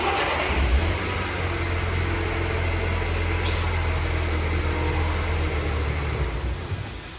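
A 2022 Mercedes A-Class engine running after a keyless start, a steady close idle hum with a loud initial burst as it fires up, continuous to the end.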